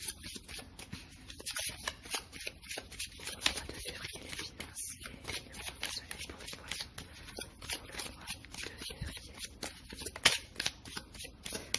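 Tarot cards are shuffled by hand up close in quick, crisp riffling and flicking bursts that repeat in an irregular rhythm, faint and soft with a little low talking underneath.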